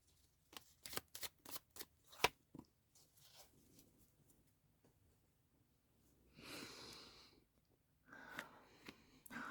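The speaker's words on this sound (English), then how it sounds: "I'm going to pull the last three cards" A deck of tarot cards shuffled close up gives a quick run of crisp riffling clicks. After a short pause comes a softer rustling slide, then a brief flick as cards are pulled from the deck.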